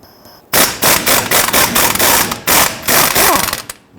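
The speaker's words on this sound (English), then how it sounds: "if you have the impact gun, it'll speed things up for you" An impact gun loosens brake dust shield bolts on a 2010-2019 Ford Taurus in loud, close bursts of rapid hammering rattle, several short runs separated by brief pauses.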